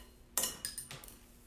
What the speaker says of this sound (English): keep scraping the sides of your bowl